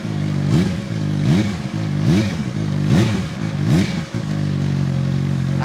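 A CFMOTO 750SR-S motorcycle accelerating hard, the engine revving up through repeated rising sweeps with brief dips between gear changes, loud and close throughout.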